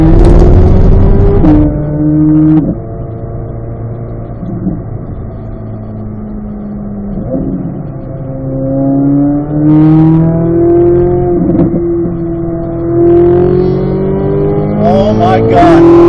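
Corvette C8 Z06 with its LT6 engine, heard at a race track, rising to about 7,800 RPM: a loud, sustained high-revving engine note that climbs and dips through repeated surges, with shifts in pitch and a second rising rev near the end.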